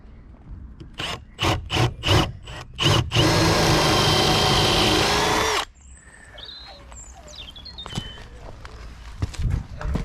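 Several short bursts from a power drill driving a fixing into timber, then one sustained loud run of several seconds, close by, followed by quieter clicks and handling noise.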